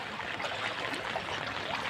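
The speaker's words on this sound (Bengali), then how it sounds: "পানির স্রোত দাঁড়াইতে পাই না।" Strong floodwater current rushing steadily through a flooded path during rain, a continuous close, broadband wash of flowing water with no talk.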